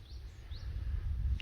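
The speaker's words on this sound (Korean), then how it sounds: "새소리 들리는 퍼플섬의 아침" Morning birdsong on Purple Island, Sinan: a few faint, brief chirps rise over low ambient rumble, distant and sparse.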